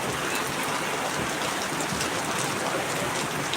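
Heavy rain pours steadily and loudly, a dense unbroken hiss filling the whole scene with no pauses and no voices.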